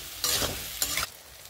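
Vegetables with turmeric, dried chili and cumin sizzle in a pan after a splash of water, two sharp bursts of stirring and frying noise rising over a low steady hiss.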